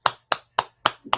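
Hands clapping five times at an even, brisk rhythm, each sharp crack close and distinct with short gaps between, a softer extra tap slipped in before the last clap.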